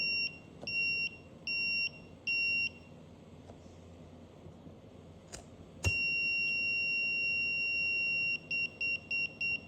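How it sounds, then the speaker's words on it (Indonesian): Buzzer of an IoT fire sensor alarm sounding, loud electronic beeps first in short repeated bursts, then a long continuous tone followed by quick pulsed beeps. "maka buzzer langsung bunyi dan langsung mengirimkan notifikasi ke Telegram"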